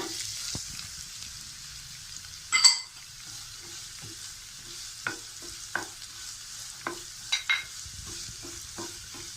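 Green chilies and chopped onions sauté in a pan for Kerala-style dal fry, giving a soft, low sizzle broken by scattered spoon scrapes and a few louder clinks, close by with no talk.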